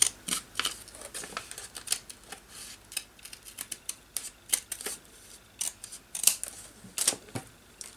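Scissors snip through paper in a series of close, sharp cuts with uneven pauses, interspersed with light handling of paper for collaged craft bags.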